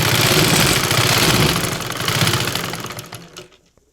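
A sewing machine stitches the slit of a churidar, a steady, loud whirring run for about three and a half seconds before stopping abruptly, with no talking.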